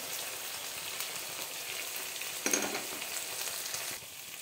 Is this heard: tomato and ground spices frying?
yes